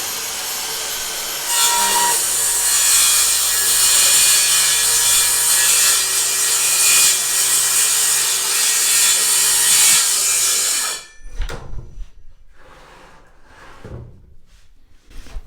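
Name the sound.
saw ripping wooden boards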